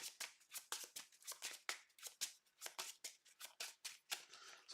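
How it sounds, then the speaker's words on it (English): A deck of cards from the Legendary Buffy deck-building game is shuffled by hand, giving a quick run of crisp riffling bursts in close, steady rhythm. "I'm going to shuffle up."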